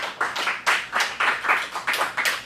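A small group in a teen acting class claps in a round of applause, a steady rhythmic series of distinct, fairly close hand claps.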